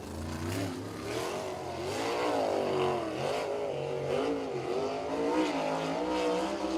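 A USAC National Sprints sprint car at Circle City roars through a qualifying lap, its loud engine note rising and falling steadily as it accelerates and lifts through the turns.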